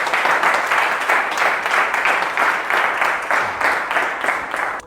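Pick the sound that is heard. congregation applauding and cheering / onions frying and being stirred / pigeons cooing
congregation applauding and cheering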